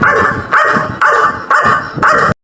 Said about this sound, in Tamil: இந்த நேரத்துல நாய் ஏன் இப்படி குலைக்குது?